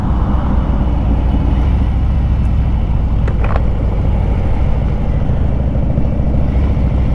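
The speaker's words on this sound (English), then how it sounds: "It's just non-stop traffic here." A motorcycle sits in slow holiday traffic in Gatlinburg, its engine giving a steady low idling rumble close by. A few faint clicks and squeaks are heard briefly in the middle, and no one speaks.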